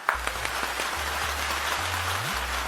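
Applause welcoming a senior poet at a poetry gathering comes as a steady wash of clapping over a low, shifting hum, with no voices over it.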